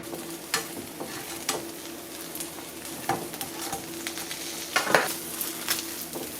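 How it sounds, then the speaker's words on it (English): Croque monsieur ham and cheese sandwiches frying in butter in a frying pan give a soft, steady sizzle, with occasional scrapes and light clinks of a utensil against the pan, close and fairly quiet with no talking. "place your sandwiches in and cook them for 2 minutes on each side."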